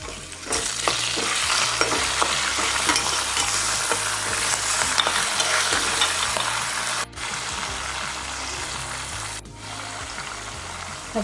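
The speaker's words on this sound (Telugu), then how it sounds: "ఇప్పుడు తరిగి ఉంచుకున్న పచ్చిమిరపకాయలు," Chopped green chillies and curry leaves sizzle and crackle in hot oil for traditional pulihora tempering, a dense, steady frying hiss with stirring clicks, briefly dipping twice near the end.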